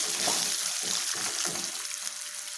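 Garlic sautés with asafoetida powder in a pan for temple-style tamarind rice, giving a steady, close sizzle with faint stirring scrapes.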